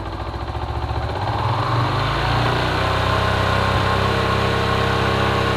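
A Yamaha New Jupiter MX motorcycle engine rises from a throbbing idle to a steady, loud hold at 4000 RPM, heard close up and continuous throughout.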